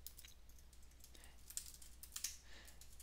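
Quick, faint clicks of typing on a computer keyboard while a Java Spring Boot application is deployed to an AWS EC2 instance, a few key presses landing in a short burst near the middle, alone without talk.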